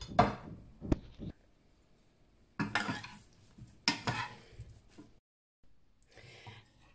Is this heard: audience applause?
no